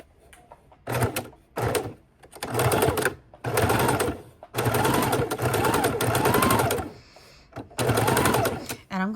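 A sewing machine stitches around the edge of a fabric bowl cover in short whirring bursts separated by pauses as the corners are eased, with a voice talking between runs.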